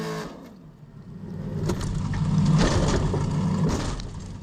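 Engine of an Icelandic Formula Offroad car heard on board at Akureyri, a loud, rough roar that swells as it revs and labors, with rattling and clatter over it.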